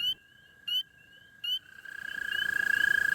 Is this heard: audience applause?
no